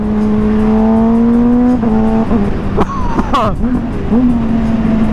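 A Honda CBR600RR sport motorcycle engine with modifications revs hard and high, its pitch climbing and holding, then dropping and surging again in quick bursts close by.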